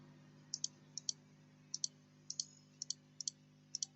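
Computer mouse clicks made while using the move tool in Photoshop, heard as a series of crisp paired clicks, close and fairly quiet, with no talking.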